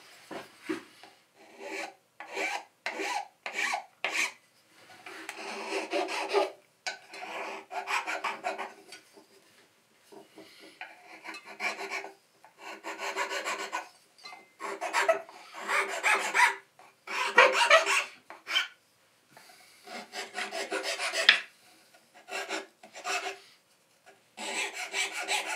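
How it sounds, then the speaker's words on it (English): A hand file rasps across the wood of a pentagonal box in repeated bursts of strokes separated by short pauses, close up and steady, with no voices. "next up is file cleaning"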